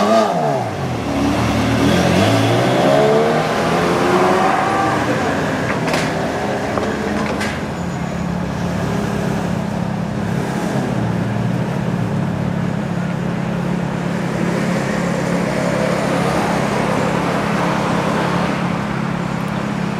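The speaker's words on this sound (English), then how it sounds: "So this is the cars leaving." A group of Ferraris pulling away on an Italy road trip: engines rev and accelerate past close by, then settle into a steady droning roar of several cars fading down the road, no talking over it.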